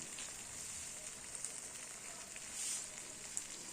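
Spice paste with cashew and tomato frying in a pan gives a faint, continuous, soft sizzle with small crackles throughout. No voices are heard.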